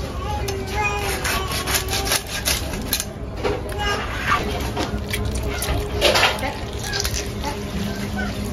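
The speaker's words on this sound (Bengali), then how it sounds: "বাকি মাছগুলো এভাবে কেটে নেব।" A knife cuts a small hilsa fish into big pieces, rough rhythmic scraping and slicing strokes against a board with soft handling noises between cuts, all close by.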